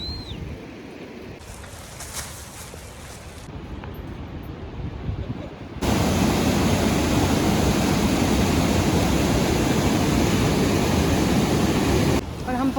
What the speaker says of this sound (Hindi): फिर से झरना आया